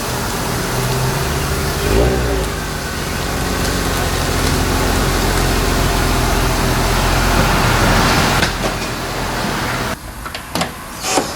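A Subaru SVX flat-six engine runs loud and steady for several seconds, with a low, continuous drone that cuts off near the end, followed by a few brief clunks.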